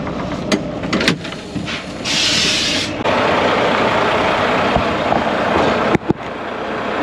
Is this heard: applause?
no